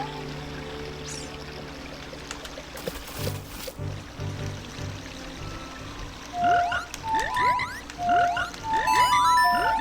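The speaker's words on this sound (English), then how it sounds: "Some frogs are looking at you from underwater." Frogs croak in Legend of Zelda: Ocarina of Time, their bright, rising calls coming in a quick run near the end over a low, steady game ambience with water-like trickling.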